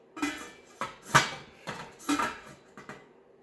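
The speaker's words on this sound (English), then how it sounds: "I'm going to put the lid on this." A metal lid set onto a simmering pot of homemade chicken noodle soup, a series of six or seven sharp clanks and rattles close by, the last ones lighter as it settles, no talking.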